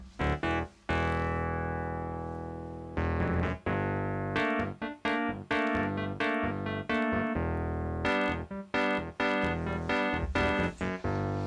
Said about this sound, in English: So this is the sound of the Wurlitzer.